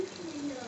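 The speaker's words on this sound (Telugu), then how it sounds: "ఇప్పుడు వాటర్ యాడ్ చేసుకుందాం." Water poured into a cooking pot for tomato rice, a brief steady splash close by.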